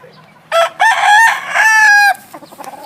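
A White Kelso gamecock rooster crows loudly and close by, one drawn-out multi-part call against quiet background, followed by faint clucking.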